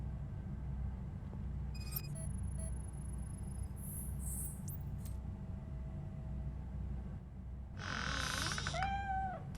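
A cat in the RoboCop: Rogue City video game lets out a short, rising meow near the end, following a few faint chirps and a steady low hum of game ambience.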